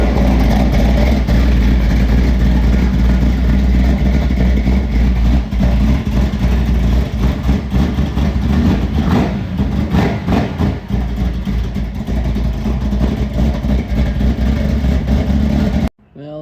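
A 1971 big block Chevelle V8 fitted with Flowmaster 40 mufflers and a full 3 inch exhaust runs rough and loud, close up, its deep rumble steady with uneven surges for about sixteen seconds before cutting off abruptly.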